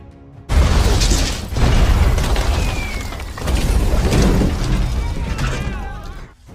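Bombs explode in the Vietnam War film Danger Close: heavy booms and crashing blasts follow one another over a rumbling, debris-filled din.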